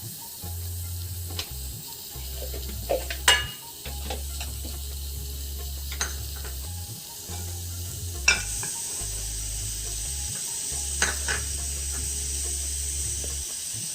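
A teaspoon of ghee heating in a pan for Thalassery unnakkaya snacks, giving a steady low sizzle and hiss close by, with a few sharp clinks of utensils against the pan.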